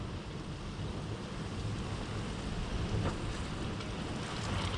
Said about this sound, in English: That is incredibly heavy rain.